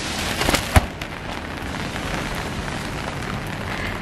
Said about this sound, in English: another raining day!